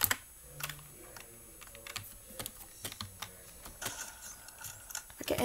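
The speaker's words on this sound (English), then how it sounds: "I can edit pretty fast because I'm on keyboard." Rapid computer keyboard typing during a PC game, a steady run of close, crisp key clicks with short bursts and pauses, plus faint game sounds underneath.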